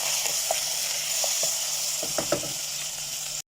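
Chicken breast cubes and onion fry in hot oil, giving a steady close sizzle with a few soft pops and clinks of a utensil in the pan.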